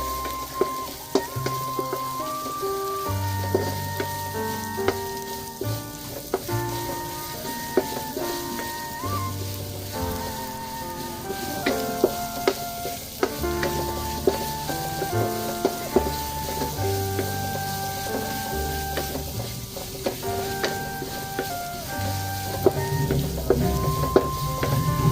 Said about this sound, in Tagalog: hintayin po natin medyo mag golden brown po ng ating sinangkutsang bawang at sibuyas